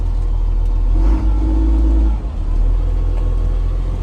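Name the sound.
engine of yard vehicle with gears and reverse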